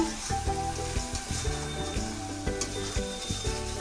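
Spiced masala sizzles and fries in a hot pan while hot water is added to stop it burning, a steady crackling sizzle with brief sharper splutters throughout, close and fairly loud, no talking.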